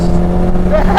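A Caterham car engine with a power upgrade revs hard up to its rev limiter, a loud, close, sustained engine drone inside the car.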